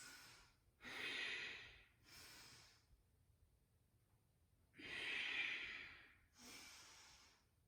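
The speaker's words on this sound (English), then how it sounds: "Deep Ujjayi breaths." Deep Ujjayi yoga breaths with a hissing, ocean-like throat sound, drawn in long inhale and exhale cycles, close and clear, with pauses of near silence between them and no talking.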